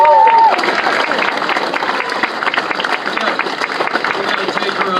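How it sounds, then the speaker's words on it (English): Crowd applause and cheering at an outdoor political rally with Vice President Mike Pence, a dense, sustained roar of clapping from a large audience that holds steady throughout, with a brief whistle near the start. "give her another round of applause"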